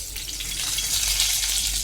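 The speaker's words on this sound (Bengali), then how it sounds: "এবার আমি একটা তেজপাতা ফোড়নে দিচ্ছি" A bay leaf dropped into hot oil for tempering, following fried potatoes, giving a steady, close, hissing sizzle throughout with no talk.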